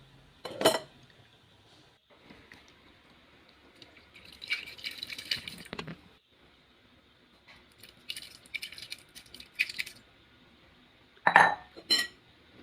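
A spoon stirs a coconut milk cassava dessert with sago in a metal pot, giving scattered clinks and scrapes in short bursts, with louder knocks against the pot near the end.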